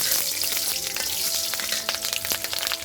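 Whole spices such as cloves and black pepper with green chilies frying in hot oil in a pan, a steady close sizzle with crackling pops throughout, no voices.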